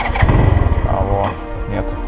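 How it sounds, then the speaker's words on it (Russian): A hot engine on a Chinese scooter is cranked and sputters unevenly through a brief start attempt, rough and close, with a voice talking over part of it. "У этого китайского скутера уже не первый раз какие-то проблемы с запуском замечаю на горячий движок."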